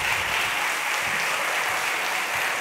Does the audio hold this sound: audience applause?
yes